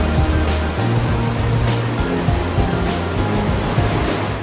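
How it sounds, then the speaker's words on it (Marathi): Dudhsagar waterfall in Goa, swollen with water, roars in a loud, steady broadband rush that fills the whole clip without a break and with no voices. "या पाण्यामुळे दूधसागर धबधबा ओसंडून वाहतोय।"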